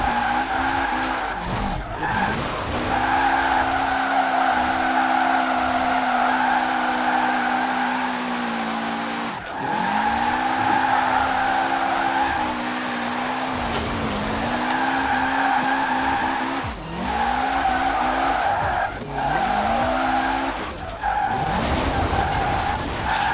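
A car drifting through a drift zone in Forza Horizon 4, engine droning with rising and falling pitch as tires squeal in long sustained screeches, broken by brief shifts between slides, loud and close with no talk.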